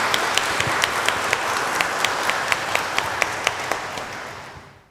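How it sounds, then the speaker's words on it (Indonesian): Wedding guests applaud at a holy matrimony ceremony, a dense wash of steady clapping with a few sharper individual claps standing out, holding level before fading away at the end. "Mari kita beri tepuk tangan buat Bapak dan Ibu Fendi."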